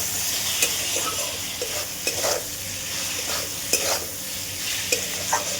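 Taro stolons (kochur loti) fry in a pan with a continuous hiss while a spatula stirs and scrapes at intervals, sharp taps punctuating the sizzle.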